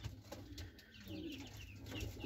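A stray female pigeon coos softly in a few low, throaty, rolling notes, heard close and alone with no talking over it.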